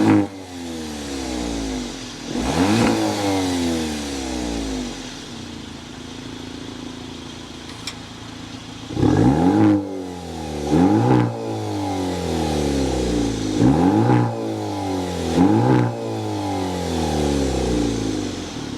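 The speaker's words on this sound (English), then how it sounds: "start it up to hear if this is a real Maserati exhaust note" The synthetic exhaust note of an electric Maserati Grecale Folgore SUV revs up repeatedly, rising in pitch with each push and dropping back between, loud and close.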